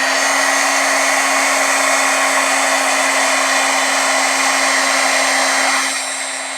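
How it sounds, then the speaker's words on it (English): A heat gun blows a steady, loud whirring roar while melting embossing powder for a painting demo, continuous for about six seconds before easing off slightly at the end; no voices. "this one I do find works better with the heat gun for the Wagner one"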